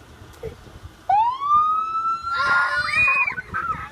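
A police car siren rises and wails, then breaks into a fast warbling yelp, fairly loud and close against a little background noise.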